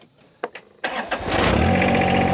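A forklift engine cranks and catches, then settles into a steady running drone, close and fairly loud, in early morning.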